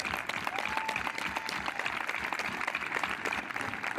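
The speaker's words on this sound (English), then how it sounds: "Let's give them all a round of applause" A crowd at a 2021 Capital High School graduation ceremony claps in a dense, even burst of applause that holds steady for several seconds, heard from some distance.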